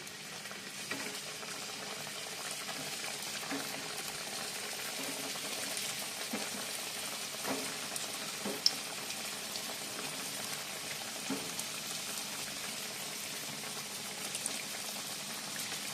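Food fries in hot white oil with a steady, fairly quiet crackling sizzle that holds throughout, dotted with small pops and faint bumps of utensils, heard alone without speech.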